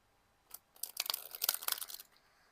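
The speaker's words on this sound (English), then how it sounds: "Last shuffle." A deck of cards is shuffled nearby: a quick burst of crisp riffling and snapping lasting under two seconds, then quiet.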